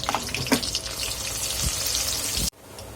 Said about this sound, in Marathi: इथे आपण मिरची तळून घेणार आहोत